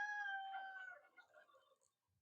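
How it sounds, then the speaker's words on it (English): A rooster gives one clear, fairly faint crow outdoors, its call trailing off into quiet, with brief clucking from other chickens nearby. "The chickens are always loud here."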